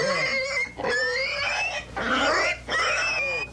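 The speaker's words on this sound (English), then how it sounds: "Not all pigs make so much noise." A pig squeals loudly and close in long, shrill bursts, three or four cries separated by brief pauses, with no talking over it.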